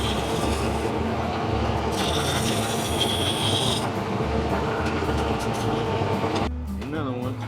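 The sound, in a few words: woodturning lathe cutting a wooden candle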